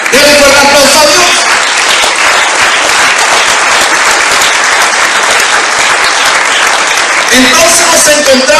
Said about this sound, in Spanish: Dele fuerte aplauso a Dios.